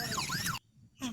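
A battery-powered toy ambulance plays a wailing electronic siren that sweeps up and down, cuts out briefly, then starts again, fairly quiet and close.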